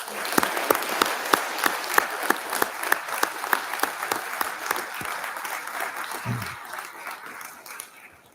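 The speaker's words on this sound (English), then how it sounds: "please join me in applauding our hardworking and dedicated City Hall staff and first responders" An indoor audience at a city's State of the City address applauds City Hall staff and first responders: steady, dense clapping from a full room, with a few sharper individual claps standing out, fading toward the end.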